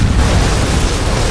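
A smoke grenade bursting in Gears of War 3 Horde mode on the Sandbar map, a loud, close, broad hissing whoosh that fills the whole moment without letting up.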